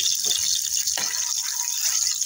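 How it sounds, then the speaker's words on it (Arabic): Half a cup of vinegar poured over crushed garlic, a steady close liquid pour with a brief splash partway through. "هنحط عليها ايه نص كوبايه خل"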